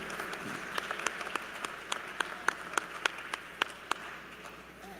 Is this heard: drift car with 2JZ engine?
no